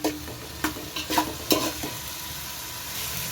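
Chicken is stirred and fried in masala for Maggi biryani: a few sharp spatula scrapes in quick succession over a constant close sizzle, which then continues on its own.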